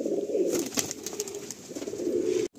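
Pigeons in a loft of Madrasi birds give low, throaty coos, nearby and fairly loud, in overlapping rolling phrases with a few faint rustles, then cut off abruptly at the end.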